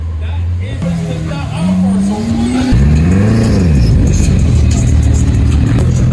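Hypercars in Miami rev their engines loudly, one engine climbing in pitch and then dropping before another revs and settles into a rumbling idle, with people talking nearby.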